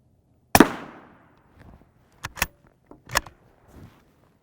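Sharp rifle shots in .308 and M855 strike a Hesco M210 SRT steel armor plate: one loud crack, then several shorter, fainter impacts spaced irregularly across a few seconds.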